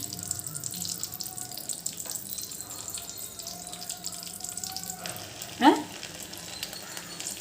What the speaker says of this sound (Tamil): இந்த மாதிரி எண்ணெயில் போட்டு நம்ம எடுக்கணும்